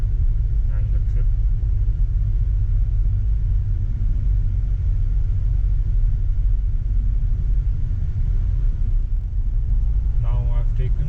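A Mahindra Scorpio-N Z8L 4WD with a manual gearbox cruising on a road merging onto the Bengaluru-Mysuru Expressway: a constant deep road and engine rumble fills the cabin, and a voice is faintly present.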